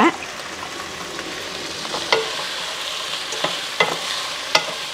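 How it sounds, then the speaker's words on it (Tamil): Eggplant sizzling in a hot pan with occasional stirring scrapes and clinks, steady and close, no talking. "இப்போ கத்திரிக்காவை வந்து அதில் போட்டுட்டு நல்லா வதக்கிக்கலாம்."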